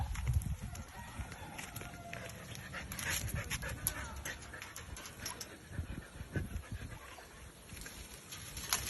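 A husky pants and whimpers close by, with breathy rhythmic puffs and faint scuffling over a steady background hum, and no talk.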